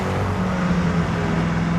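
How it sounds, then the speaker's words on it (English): Koenigsegg Agera R V8, bolted directly to the chassis, roars loudly and steadily in a close, enclosed space, a sustained low rumble with no talking over it. "It is initially pretty intimidating. It's so loud in here. That V8"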